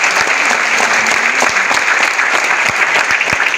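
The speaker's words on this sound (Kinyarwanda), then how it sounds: "Mwiha amashyi rwose." A crowd at a community football celebration in Rwanda applauds steadily, with dense, continuous clapping held at an even level throughout and no speech.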